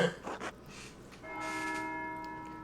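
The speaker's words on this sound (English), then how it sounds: "That's the bell for Sext." A church bell in a medieval monastery video game rings for Sext, sustained metallic harmonic tones swelling midway and holding steady, preceded by softer ambient game sounds.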